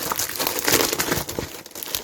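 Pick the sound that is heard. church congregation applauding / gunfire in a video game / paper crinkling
paper crinkling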